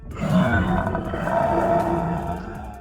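A reader's voice imitates a dragon's loud roar: a close, sustained, growling rumble lasting nearly three seconds with no other sounds.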